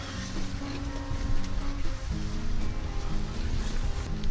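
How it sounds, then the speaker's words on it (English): A wilderness river flowing at a steady rush, continuous broadband water noise with a faint low drone underneath, no voices. "there's a river going into a little sag."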